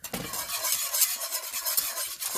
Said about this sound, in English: this is going to stir for about 5 minutes until it gets thick